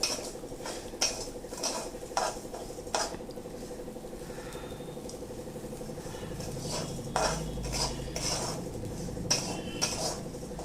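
Split coriander seeds dry-roasting in a pan, stirred with a metal utensil: repeated scraping and clinking strokes against the pan, close and fairly steady, with a soft low background hum and no talking.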